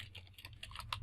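Fingers tap quickly on a computer keyboard while code is entered, a short run of quiet, close clicks in an uneven rhythm.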